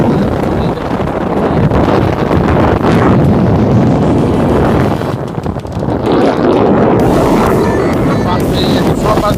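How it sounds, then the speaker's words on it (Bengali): Strong wind buffets the microphone in harsh, continuous low roaring gusts at the waterfront near Pamban and Dhanushkodi, with boats nearby, loud and close for the whole stretch, with a brief dip midway. "হাওয়া কি, দাঁড়ানো যাচ্ছে না"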